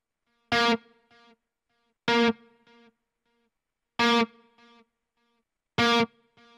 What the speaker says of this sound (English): I'm also going to throw a reverb in there.